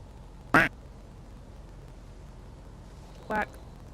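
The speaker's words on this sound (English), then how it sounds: "Quack." A duck gives two short, loud quacks about three seconds apart over a quiet background, with no talking between them.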